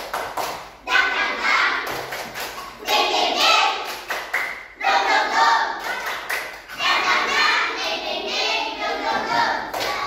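Schoolchildren in a classroom perform a rhythmic tepuk semangat clapping chant, bursts of patterned claps and taps mixed with their voices, repeated in several rounds with short pauses between.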